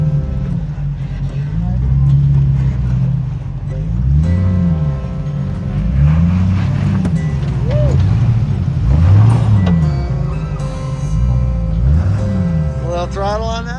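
An off-road vehicle's engine revs under throttle on a Big Bear trail, a steady loud drone that swells and dips in repeated surges, with a person talking over it.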